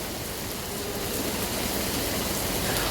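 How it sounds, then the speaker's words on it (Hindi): Rain falls outside a home in a dense, steady hiss, an unbroken wash of drops on surfaces that stays level throughout with no one speaking. "देखिए बाहर बारिश शुरू हो गई है।"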